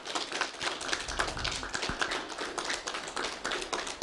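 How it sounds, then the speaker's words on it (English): Applause from an audience honoring parents and guardians at a school event, a dense, steady patter of many hands clapping, moderately loud, continuing evenly without voices over it. "Can you give your parents and your guardians and your families a round of applause"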